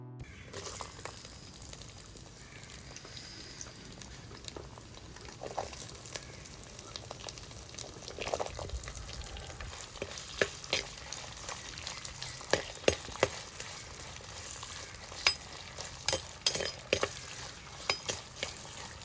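Oil sizzles steadily in a clay pot as fenugreek, curry leaves and shallots are sautéed in a village kitchen, with scraping stirs and light clinks throughout and no talk.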